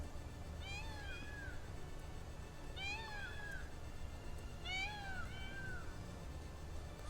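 A cat meows three times at even intervals, each a drawn-out, slightly wavering cry, moderately close over a low steady background hum.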